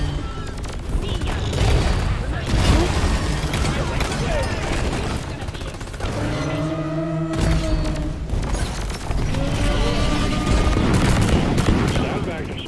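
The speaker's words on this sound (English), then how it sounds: "Why did everyone shoot me when I grappled into the line of fire?" Rapid teammate gunfire in the video game Deep Rock Galactic, dense continuous bursts with booms layered in, loud and close, and a brief lull midway where talk is heard.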